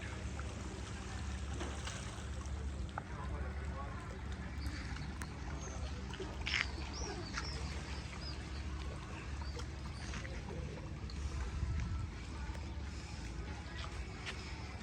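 A ferry boat crossing toward Pelješac in Croatia, a steady low engine rumble with washing water and wind noise throughout, faint scattered background voices.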